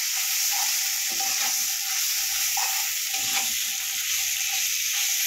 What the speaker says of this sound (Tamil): இஞ்சி பூண்டு பேஸ்ட் வந்து நல்லா வதங்கியாச்சுங்க